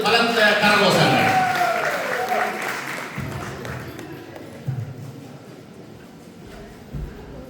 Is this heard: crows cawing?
no